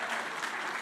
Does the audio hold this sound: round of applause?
yes